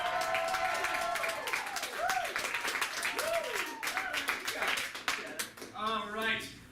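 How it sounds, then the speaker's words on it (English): An audience at a live show cheers and claps as a group, with bursts of applause and whooping mixed with raised voices, sustained and fairly loud, with a host's voice over it near the end. "I want each and every one of you to cheer as loud as you can."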